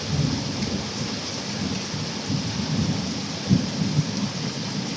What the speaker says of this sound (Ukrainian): такий грубий, файний дощ падає